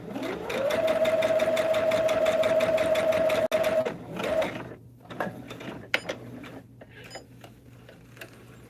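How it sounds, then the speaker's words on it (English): A sewing machine runs steadily for about three seconds, stitching along the seam lines of a Hunter Star quilt, then stops. Scattered clicks and handling noises follow, with no talking. "We're just sewing on these lines right now"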